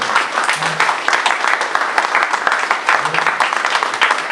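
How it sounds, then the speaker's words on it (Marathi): A crowd claps in sustained, dense applause, loud and continuous for several seconds, with a couple of brief voices underneath. "त्यांच्यासाठी फक्त एकदा सगळ्यांचं टाळ्या वाजवा"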